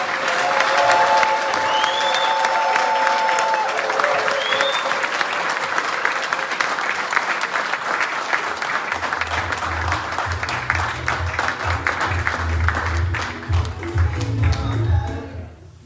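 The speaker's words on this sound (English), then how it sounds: "I would like us to give a loud cheer and a big clap to the Ambazonian woman for her struggle" Crowd at an Ambazonian liberation gathering clapping and cheering loudly, a sustained roar of applause with high whoops and whistles early on, later joined by a low drum-like thump before it tapers off.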